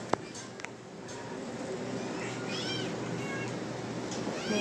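Several cats meow over steady background noise, their rising calls overlapping at moderate distance, with a couple of sharp clicks early on.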